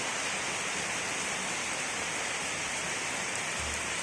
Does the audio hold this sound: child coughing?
no